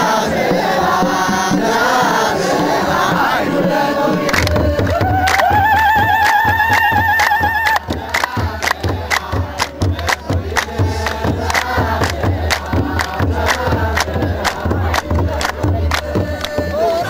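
A massive crowd surrounds a Timkat festival procession in Ethiopia, a loud dense roar of many voices with shouts, chants and ululation that carries on throughout.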